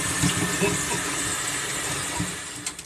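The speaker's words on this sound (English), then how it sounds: "with a sponge, you're just going to start washing them down and giving them a good washing" Running water splashes steadily while a sponge scrubs down a new spiritual fountain goblet, a continuous wet wash with brief dips and swells close by.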